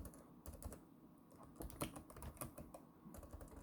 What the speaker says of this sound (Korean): 타이핑을 치면서 설명을 해볼게요